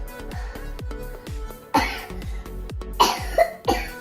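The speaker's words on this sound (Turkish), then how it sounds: "Allah'ım korktum o nasıl öksürmek" A sick girl coughs in several harsh bursts, close by, with short pauses between them and background music running throughout.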